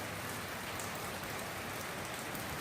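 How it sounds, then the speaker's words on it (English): Steady, dense rain falls during Hurricane Irma, a constant loud hiss of drops striking surfaces close by with no pause or talk. "It's raining. And it's raining like it does"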